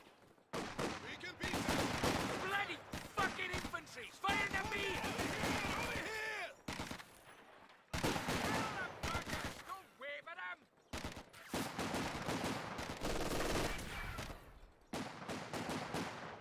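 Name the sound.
gunfire in Company of Heroes 2 video game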